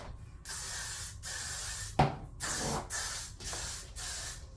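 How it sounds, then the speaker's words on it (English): Hairspray from an aerosol can is sprayed onto hair in a quick series of hissing bursts with short pauses between them, plus one sharp click partway through. The sound is close and fairly loud, with no talking. "So lastly, you're going to take your hairspray."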